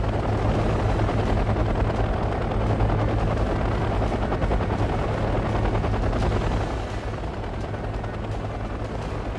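A CH-147 transport helicopter in the game Red Dragon gives a loud, continuous rotor drone with steady chopping throb, dense and unbroken, easing slightly in the final seconds.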